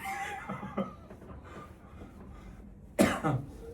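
Allergy-driven coughing, with a short pair of coughs near the start and a louder, sharper double cough about three seconds later, close and alone.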